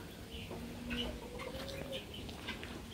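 Silkie chickens in a park cluck softly, several short calls and a few drawn-out tones over a low outdoor background, moderately close.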